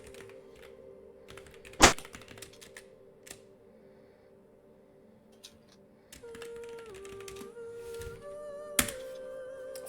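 Scattered keyboard keystrokes and a couple of sharper key thunks tap out irregularly over a quiet steady background, close and moderately loud, with a few brief pauses between bursts.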